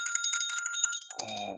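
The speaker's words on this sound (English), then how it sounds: "that's just my phone ringing" A mobile phone ringing during an online symposium talk: a bright, repeating electronic ring tone with sharp tonal pulses, loud and close, which cuts off abruptly near the end as low rustling and handling noise take over.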